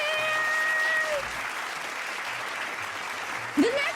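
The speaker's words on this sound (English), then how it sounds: "Give a big round of applause to Bear!" A small crowd applauds steadily at a community Halloween art contest showcase, a continuous wash of clapping with a faint tone running through the first second and a brief voice-like sound near the end.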